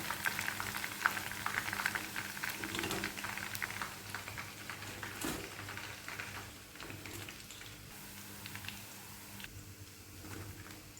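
Soya chunks frying in hot oil, a soft bubbling crackle with faint popping that runs steadily and fairly quietly, alone and without talk.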